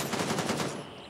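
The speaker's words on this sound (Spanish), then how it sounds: "¿Quién cojones me está disparando?" Rapid automatic gunfire crackles in bursts in the military shooter Gray Zone Warfare, a loud burst of close shots that cuts off abruptly and leaves a short quiet tail.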